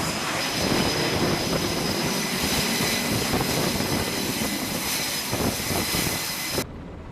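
A fighter jet roars past, a loud, continuous broadband engine rush that holds steady for about six and a half seconds, then cuts off abruptly near the end.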